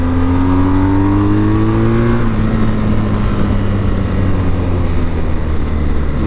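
A BMW GS 1250 motorcycle engine drones steadily while riding, its loud, close tone dipping slightly in pitch before holding a constant hum.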